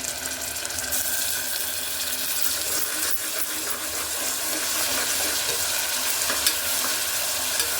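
Freshly ground ginger paste frying in oil for restaurant-style tomato rice, with a steady, close sizzle and occasional stirring scrapes throughout, no talking.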